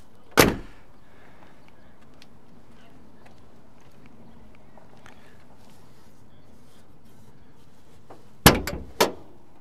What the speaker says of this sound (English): Let's pop the hoods and take a look here.